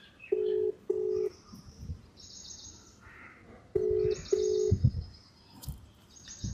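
A phone keypad beeps through a short sequence of dialing tones in two quick clusters separated by a pause, each beep crisp and steady, with faint chirps in between and no talk.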